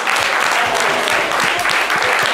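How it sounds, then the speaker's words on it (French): Audience applause for a young woman called up on stage at a live show: a full, loud round of clapping from a crowd, steady and dense, with a few individual claps popping out near the front. "On peut l'applaudir très, très fort, s'il vous plaît."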